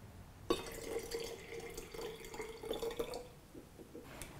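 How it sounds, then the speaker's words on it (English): Matcha water is poured back into a container in a close, quiet stream of liquid that starts with a splash, runs for about two and a half seconds, then tapers into a few drips. "I'll pour this back in here, so then that becomes our matcha water to mix in with our mint juleps."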